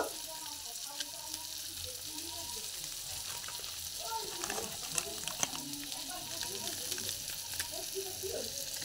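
Curry leaves and spices sizzling in a hot pan, a steady frying hiss with scattered pops and crackles, close and moderately loud.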